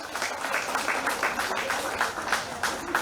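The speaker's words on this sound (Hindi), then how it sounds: "कृपया उहाँको लागि पनि जोरदार ताली बजाइदिनु होला।" An audience applauds steadily at a professional beauty and hair master class, a continuous dense patter of many hands that stays even and fairly distant for the whole stretch.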